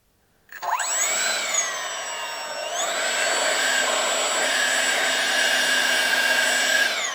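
An electric ducted fan motor for a 25-inch balsa Gnat model jet spins up on a servo tester to a loud, high, steady whine, then rises to a higher pitch and holds it, close and alone.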